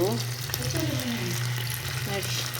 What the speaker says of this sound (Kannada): ಮೀನು ಫ್ರೈ ಆಗ್ತಾ ಉಂಟು